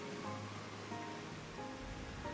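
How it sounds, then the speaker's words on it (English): Rain falling in Final Fantasy XIV, a soft and steady wash of rainfall that runs without a break, faint and distant, with no voices. "it's also raining, so it's even harder"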